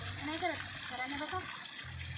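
A woman splashes and plays in water, making a steady sloshing wash close by. Voices talk over it throughout.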